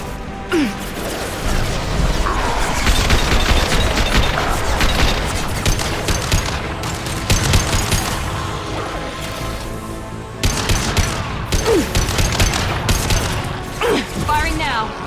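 Impact-shot weapon fire in Mass Effect 2, heavy crashing blasts and booming hits inside a dense, loud battle soundscape, with a voice speaking over the noise.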